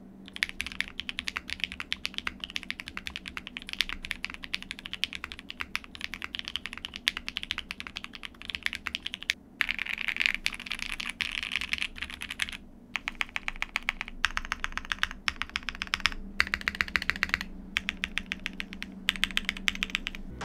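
Steady, continuous typing on a Shelby80 TKL mechanical keyboard built with PE foam, with dense clacking keystrokes close up and no voices.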